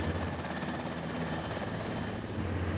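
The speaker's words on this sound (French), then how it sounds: "moment où je vais mettre en puissance l'hélicoptère." An NH90 Caïman military helicopter powers up, its turbine producing a steady, dense whine and low droning hum that holds constant throughout, fairly distant and without any voices.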